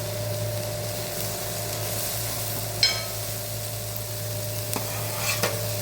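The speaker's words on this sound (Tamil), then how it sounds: "வெங்காயம் நல்லா வதங்கட்டும்" Onions sautéing in a pan for egg podimas, with a steady, soft sizzle under a constant low hum and a few faint scrapes or taps of a spoon against the pan.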